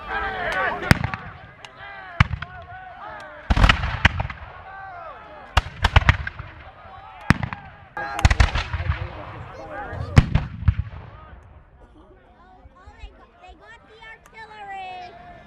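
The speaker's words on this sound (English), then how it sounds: "Now the troops are firing away with their volleys, and volleys, of course, are the best way to use these muskets." Black-powder muskets fire in volleys at a Battle of Fort George reenactment. The outdoor cracks come in repeated bursts, some single and some in ragged clusters, over crowd chatter and a voice talking throughout.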